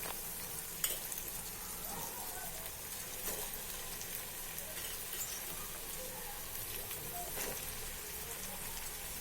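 Bitter gourd fries in a pan with a steady, faint sizzle and hiss, broken by a few soft clicks and stirring touches.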